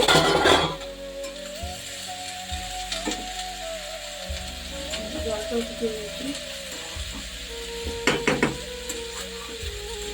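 Cauliflower and flat beans sizzle steadily in a hot pan while utensils clatter and scrape now and then, with a faint mechanical hum underneath.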